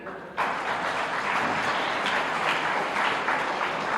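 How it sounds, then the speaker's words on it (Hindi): A large audience at a Hindi kavi sammelan poetry gathering bursts into sustained applause, dense steady clapping that starts abruptly and holds loud and even throughout. "एक बार तालियां तो बजा दीजिए।"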